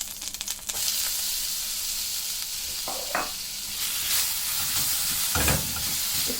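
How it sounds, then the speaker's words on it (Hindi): Ginger and garlic hitting hot oil in a wok, a loud sizzle that flares at first and then settles into steady frying hiss, with a few clinks and stirring scrapes. "अब इसी कढ़ाई में मैं अदरक लहसुन डालूंगी।"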